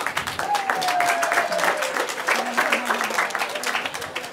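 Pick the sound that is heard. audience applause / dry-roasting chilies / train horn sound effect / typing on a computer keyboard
audience applause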